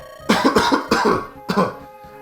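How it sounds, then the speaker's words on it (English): A person with an oncoming cold coughs about four times in quick bursts, close and fairly loud, with short pauses between them. "I feel the need to cough a lot"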